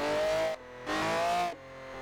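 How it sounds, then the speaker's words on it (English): V12-swapped Toyota FRS, around 700 horsepower, drifting with a feathered throttle: two loud, sustained high-pitched engine wails, each rising slightly, separated by a brief dip to a lower idle-like tone. "But the noises it's making are pretty amazing. Look at that. Just feather the throttle."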